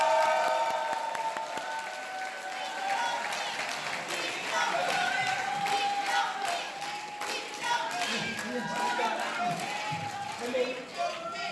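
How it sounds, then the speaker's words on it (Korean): An audience at a lecture applauds to welcome a speaker, with steady clapping filling the room for several seconds while some voices murmur underneath. "모두 큰 박수로 맞아주시기 바랍니다"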